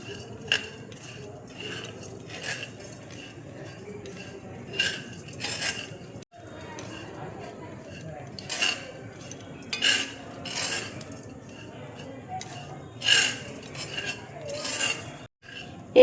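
Sugar melting in a pan for caramelized Bhuna tea is stirred with a metal spoon, which clinks and scrapes against the pan in irregular bursts over a low background hum.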